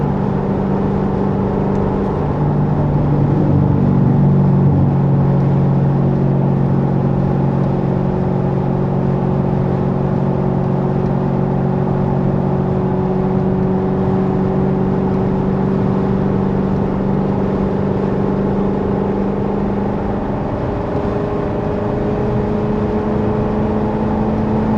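A C7 Corvette accelerates hard, its engine a loud, steady drone with a pitch that climbs gradually and continuously over roughly twenty-five seconds, heard from inside the car with no talking.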